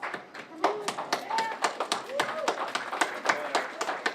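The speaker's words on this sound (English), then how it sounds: "you deserve an applause" Scattered applause from a small audience at a civil rights history art exhibit event, uneven claps from a few people at close range, with some voices murmuring underneath.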